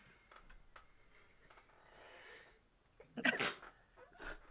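A single sharp sneeze bursts out after a stretch of quiet, faint shuffling, followed by a softer breathy sound.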